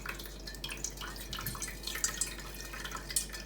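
Water squeezed out of fresh chenna wrapped in cloth drips and trickles into a vessel, light irregular drips over a steady low hum.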